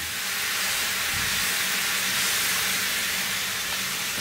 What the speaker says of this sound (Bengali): অল্প একটু পানি দিয়ে এটাকে ভেজে নিব